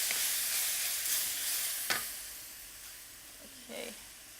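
Mushrooms stir-frying in a very hot pan give off a loud, steady hiss and sizzle, with a few brief spatters and stirring scrapes breaking through up close.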